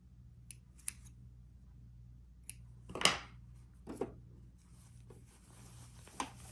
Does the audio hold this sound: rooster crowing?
no